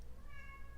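A house cat gives a single short, faint meow in a garage during a car engine accessory install, heard quietly over low background rumble.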